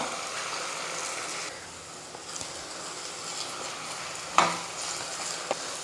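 Beaten eggs frying and being stirred in a pan with sautéed onions, a soft continuous sizzle with a few sharp utensil scrapes and clicks near the end, close and without talk.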